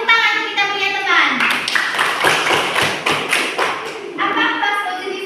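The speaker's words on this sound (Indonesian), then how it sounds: "tepuk tangan untuk kita punya teman" Elementary schoolchildren in a science class in Indonesia clap together in a brisk, rhythmic burst of sharp taps lasting a few seconds, with children's and adult voices speaking before and after.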